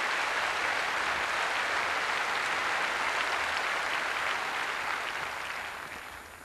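Steady, dense crowd applause at Wimbledon, a continuous wash of many hands clapping in the stands that holds evenly and then begins to fade near the end, with no voices over it.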